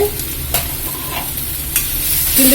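Carrots and peas sautéing in a pan for upma, a close, continuous sizzle with a few soft scrapes and knocks of the stirring spoon; no talk.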